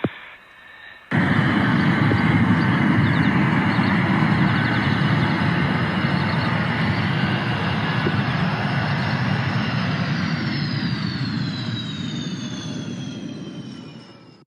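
Military jet aircraft pass overhead in a sustained, loud roar that dominates for over ten seconds, with a rising whine later on, then slowly fade away.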